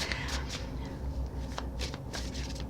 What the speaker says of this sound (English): these are kind of big, so they're kind of difficult to shuffle